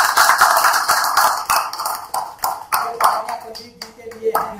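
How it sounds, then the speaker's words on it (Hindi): A few people clap hands in irregular bursts that fade to scattered single claps, with someone talking over them throughout. "चलिए ताली बजा दीजिए।"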